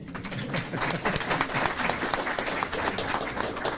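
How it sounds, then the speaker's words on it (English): Dense, even applause from an audience at a community meeting at Salem State, sustained and fairly loud throughout. "And Bill, yes, you may applaud."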